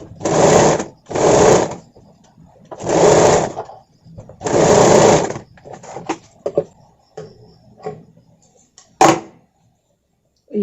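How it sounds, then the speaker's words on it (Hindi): A sewing machine runs long, large stitches along a blouse in four loud, close bursts of rapid whirring. Shorter, softer runs and light clicks follow as the fabric is adjusted. "यहाँ पर देखिए हम बड़ा सिलाई लगा रही हूँ"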